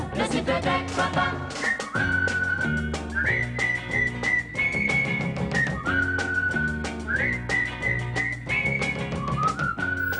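A whistled melody carries the refrain of a French song, bright sustained notes gliding and stepping over a steady rhythmic band accompaniment, loud and close throughout with no talking.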